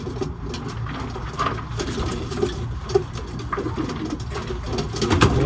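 Racing pigeons coo and murmur inside a loft, a steady close chorus of soft throaty calls with faint rustling and no voices.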